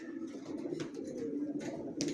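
Young racer pigeon squabs coo softly in a loft, a low steady murmur with a few brighter rustles and short calls, near and continuous without talk.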